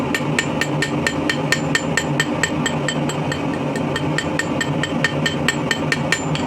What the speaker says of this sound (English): Now I'm going to take a rock hammer and very carefully put in some lines for his beard.